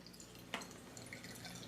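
Filtered water from a Travel Berkey filter's spigot runs faintly into a container, with a soft drip or clink near the middle over a quiet room background.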